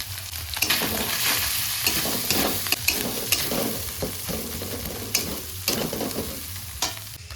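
Ground turmeric, coriander, chili and cumin frying with fish in a pan: steady sizzling with repeated scraping strokes of a spatula stirring, close and clear, no talk.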